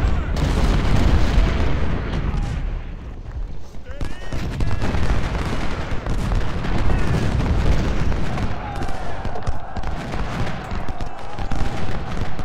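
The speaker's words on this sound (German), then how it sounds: "Feuer auf die feindlichen Kanonen." Cannon artillery fire booms repeatedly in an Ultimate General: Civil War battle, dense rumbling volleys continuing under a man's speech throughout.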